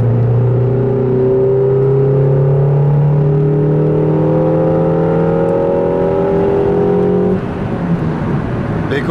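An Audi A2 with a 1.4 engine and the middle muffler deleted, driving at around 110 and over 3000 RPM, gives a loud, steady droning hum with a rising whine until the tone breaks near the end.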